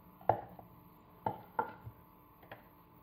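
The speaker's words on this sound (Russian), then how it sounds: "Пока измельчаем курагу" Dried apricots being chopped on a board for flourless, sugar-free cookies: four or five sharp knife knocks at an uneven, unhurried pace, close up and distinct against a quiet kitchen background.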